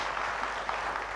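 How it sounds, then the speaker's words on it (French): A studio audience applauds steadily, a dense wash of clapping for about a second, during a Burkina Faso TV show. "On va s'applaudir très très fort."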